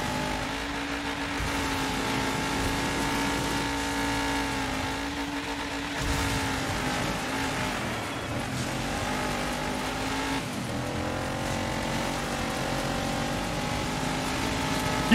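A race car engine in the off-road racing video game Dirt 5 drones steadily throughout, with shifting revs and pitch swings as the car accelerates, loud and continuous with no talk over it.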